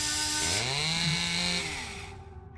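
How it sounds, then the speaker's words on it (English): In the horror game Spirit Hunter: Death Mark, a chainsaw revs up with a rising, whining engine pitch, holds briefly, then fades out over a couple of seconds. "I can hear the chainsaw thingy"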